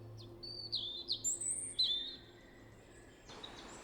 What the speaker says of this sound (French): Tu entends le chant des oiseaux